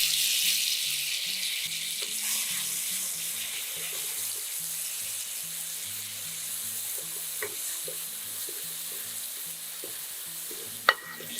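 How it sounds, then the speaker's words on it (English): Prepared spices sauté in a hot pan, giving a soft steady sizzle with light stirring scrapes and one sharp clack near the end, close and quiet, with no voices. "Sauté the spices that have been prepared before until fragrant."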